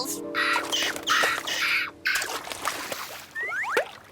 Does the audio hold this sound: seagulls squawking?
yes